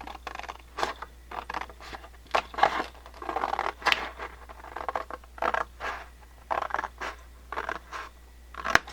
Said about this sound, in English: We're going to cut right down this center on the right side of this center seam